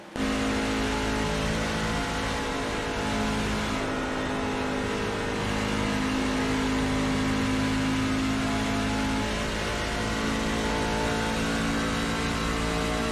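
Onboard engine of a NASCAR-style race truck at Indianapolis Motor Speedway, a loud steady drone at high revs held flat throughout with slight shifts in pitch, heard alone without talk.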